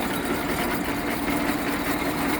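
A heavy-duty tractor fitted with a geared winch idles steadily at close range, a continuous dense engine rumble with no pauses or voices.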